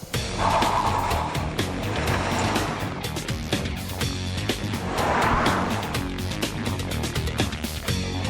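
A Kia Forte compact sedan drives past loudly, its engine and road noise surging twice in broad swells with a steady rumble throughout.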